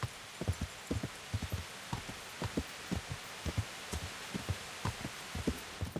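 Rain in Kingdom Come: Deliverance, with close, irregular heavy drops thudding on a surface over a soft background wash, faint and without speech.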